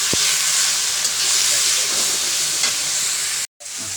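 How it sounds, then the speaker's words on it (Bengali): Pāt greens fry in a pan with a continuous loud sizzle and hiss and occasional stirring scrapes, broken by a brief drop to silence near the end. "পাঁচ শাকটা বাইজে নিচ্ছি"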